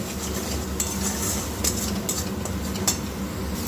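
Spice masala cooked down in a pan with very little oil, stirred continuously with a utensil, giving steady scraping and occasional light clinks over a low, constant frying hiss.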